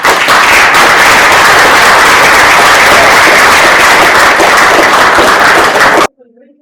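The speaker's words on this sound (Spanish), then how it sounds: "Un aplauso, por favor." Loud, dense audience applause after an academic talk on mathematical reasoning, a continuous roar of many hands clapping that cuts off abruptly near the end.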